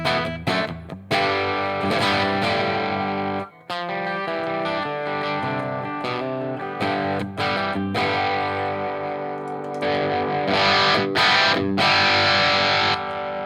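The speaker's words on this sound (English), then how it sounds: "And then we have the longer reverb." Distorted electric guitar plays sustained chords with a long, washy reverb tail, loud and continuous with a brief dip partway through.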